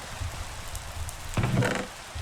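Steady rain falling in the Minecraft FTB Interactions modpack, a soft continuous hiss with a brief louder patter swell partway through, no talking.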